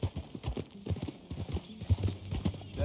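Hooves clip-clop in an even, brisk rhythm as a horse trots close by in Red Dead Redemption 2, the beat continuing throughout with a low whinny-like snort near the end.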